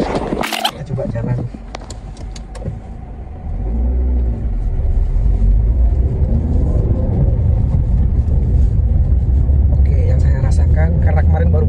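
A 2016 Suzuki S-Cross with a manual gearbox pulls away from rest, its engine rumble rising and holding steady inside the cabin, while people talk over the noise.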